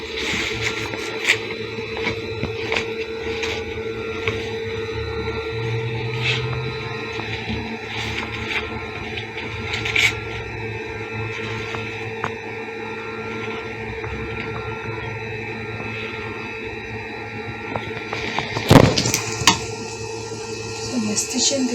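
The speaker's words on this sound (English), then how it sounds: "So we're stitching the princess dart, one side of the princess dart." A sewing machine stitches one side of a princess dart on an African-fabric jacket, giving a steady motor hum with faint rapid ticking and a sharp knock near the end.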